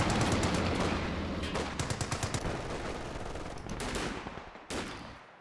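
Light machine gun fire in Company of Heroes 2 rattles in dense, sustained bursts with scattered distant shots, loud and continuous for most of the stretch before thinning out near the end.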